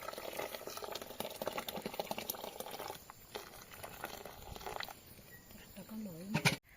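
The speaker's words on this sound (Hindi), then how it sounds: "अब इसमें गर्मा गर्म पानी डालेंगे।" Hot water pours steadily into a pot of jhangora (barnyard millet) set on a chulha, a continuous splashing hiss with a brief clatter near the end.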